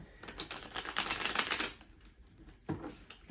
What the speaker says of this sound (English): Shuffle up and do one more.